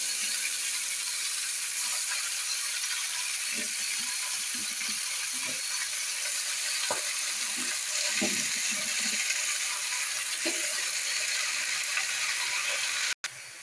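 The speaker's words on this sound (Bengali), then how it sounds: "এর মধ্যে আমি শাকগুলোকে দিয়ে দেবো" Spinach leaves sizzle in a pan with frying chillies, producing a continuous hiss dotted with irregular crackles and pops, moderately quiet and close, with no voices.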